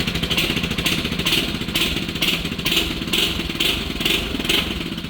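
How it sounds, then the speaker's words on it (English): Cold flip quad ATV engine idling with a rough rattling beat, then blipped in short regular revs, about eight quick rises and falls, close and loud with no talk. "she revs up cleanly."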